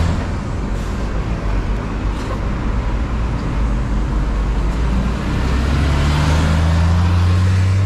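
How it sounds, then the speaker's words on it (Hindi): Heavy vehicles, buses among them, roll along a busy Seoul street amid steady traffic roar, with a loud low engine drone swelling as one passes close near the end. "ये देखो जी बसें जा रही हैं"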